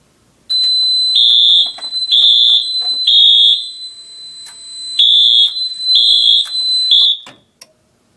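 A fire alarm system set off from a pull station blares in loud repeated pulses of a piercing tone with short gaps between them, then cuts off near the end, leaving quiet clicks.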